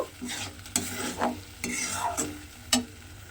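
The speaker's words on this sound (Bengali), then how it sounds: "কাজু কিশমিশটাও দিয়েও কিন্তু খুব ভালোভাবে মিশিয়ে আবারও একটু 5 মিনিট মতো রান্না করে নেব" Spoon stirring bottle gourd halwa with cashews and raisins in a sizzling pan, soft scrapes and a gentle fry hiss broken by a few sharp clinks against the pan.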